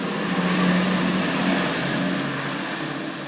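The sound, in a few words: truck passing by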